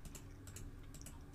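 Keys tapped on a computer keyboard to enter a number into a French numbers app, a quick run of light clicks, close and quiet, no voices.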